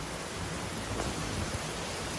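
Heavy rain pours in Fukuoka, Japan, during a thunderstorm, a steady, dense hiss of downpour that stays even throughout with no distinct thunderclap standing out.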